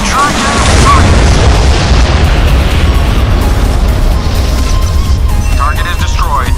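A destroyed target blowing up in the Modern Warships naval combat game, a loud sustained roaring blast with rumbling low end that fills the whole stretch, with faint radio-style game chatter in the background.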